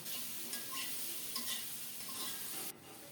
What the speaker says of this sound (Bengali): এখন ধুয়ে কেটে রাখা ডাঁটা আর চিচিঙ্গা দিয়ে দিলাম এগুলি সহ আরও কিছুক্ষণ ঢেকে ঢেকে কষিয়ে নেব